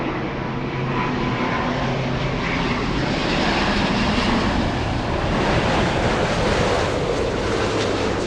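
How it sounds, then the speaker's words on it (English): A Delta airliner inbound from Haneda roars in on arrival at LAX, a loud steady broadband engine wash with wind rumble, continuous and close throughout. "Delta 8 flying in from Haneda"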